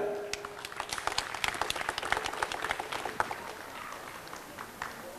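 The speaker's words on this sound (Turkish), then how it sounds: "değerli arkadaşlarıma alkış istiyorum lütfen" An audience at a picnic gathering breaks into applause, a steady crowd of claps at moderate distance that gradually thins and fades out toward the end.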